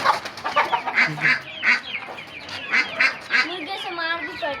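Chickens and roosters cluck and squawk in a lively, overlapping series of loud, close calls, with a burst of honking-like cries near the end, and no talk over them.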